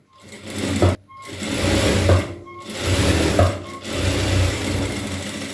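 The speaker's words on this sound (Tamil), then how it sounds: "ஃபோல்ட் பண்ணி நம்ம 1/4 இன்ச்சில் தையல் போட்டுக்கலாம்" A sewing machine stitches a quarter-inch seam on a blouse piece in close, whirring runs of a second or two, separated by short pauses.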